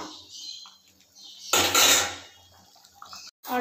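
Spoon stirring ground garam masala into vegetable dal in a cooking pot, a short burst of scraping and clinking against the pot in the middle, with quieter handling sounds before and after.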